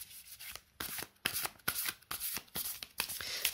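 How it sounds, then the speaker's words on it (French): Tarot cards are shuffled by hand in a quiet room, a series of crisp riffling bursts with short pauses between them, close and soft. "Alors donc, on va d'abord bien mélanger."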